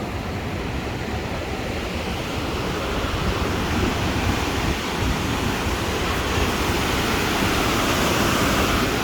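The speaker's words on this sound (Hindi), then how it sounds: "ये ग्लेशियर मेल्ट होके जा रहा है।" A glacial meltwater stream flows near Rakaposhi in Nagar, giving a loud, constant rushing roar that never lets up and carries no voices.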